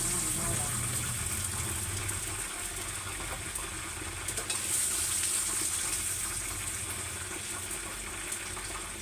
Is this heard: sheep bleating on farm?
no